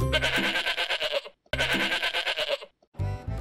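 A sheep bleats twice in long, loud, wavering calls with a short silence between them, close and clear, followed by a brief start of another sound.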